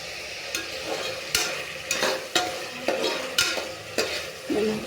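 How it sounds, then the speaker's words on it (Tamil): Ingredients for vegetable biryani sautéing in a hot pan, a continuous close sizzle broken by a regular series of spoon scrapes and clinks about every half second, with no voices. "நல்லா வதங்கட்டும்."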